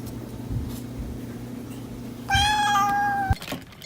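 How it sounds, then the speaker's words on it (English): Hungry house cats meowing to be fed: one long, loud, drawn-out meow close by, rising over a steady low background hum and ending abruptly, with no talking. "The cats have learned to use every feline wile to convince Mama to feed them."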